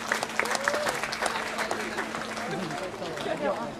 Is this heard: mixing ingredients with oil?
no